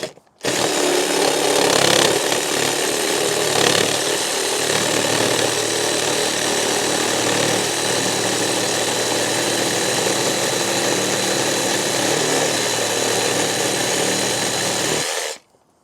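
A reciprocating saw fitted with a pruning blade cuts steadily and loudly for about fifteen seconds, its motor whine and blade rasp continuous from start to stop, close up with no talking.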